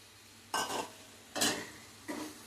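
A spoon stirs ridge gourd and moong dal curry in a pan, three separate scraping strokes with quiet pauses between them.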